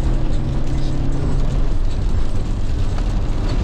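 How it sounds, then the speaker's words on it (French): A car passes another vehicle at full throttle while drifting. Its engine gives a loud, sustained roar blended with heavy road and wind noise, recorded from inside the car with no speech. "Alors ça c'est du dépassement."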